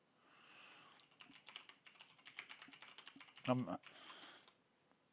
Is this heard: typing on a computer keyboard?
yes